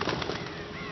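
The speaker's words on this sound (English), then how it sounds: "Fucking birds." A flock of birds bursts into flight in the game Until Dawn, a brief, close flurry of flapping wings filling the moment on its own.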